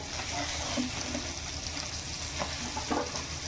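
Mandeli fish frying in a pan gives a steady, moderate sizzle and crackle with a few soft scrapes and clinks, and no clear talk.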